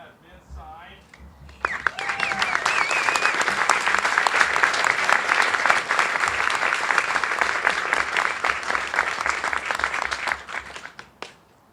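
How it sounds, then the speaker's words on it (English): A crowd bursts into loud, sustained applause at an outdoor ceremony after a Secretary of the Interior signs an order designating the Connecticut River a National Blueway, starting after a brief moment of talk and fading near the end. "Give him another round of applause."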